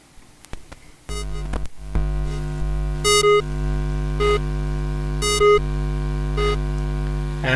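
A stereo delay effect pedal set to low feedback, each sustained electronic tone answered by a single repeat, giving a droning, hum-laden texture with bright bursts recurring every second or so.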